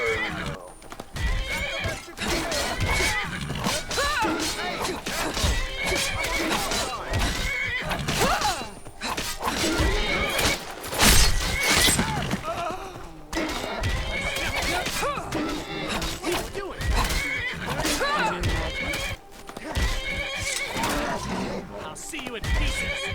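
A horse in the video game Skyrim neighs and whinnies loudly several times, close by, with hooves clopping throughout and short pauses between the calls.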